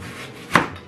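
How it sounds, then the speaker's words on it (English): A knife slices through an onion in one short, crisp cut near the middle, standing alone against a quiet kitchen background. "So next I'm going to cut an onion"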